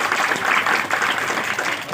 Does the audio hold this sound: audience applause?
yes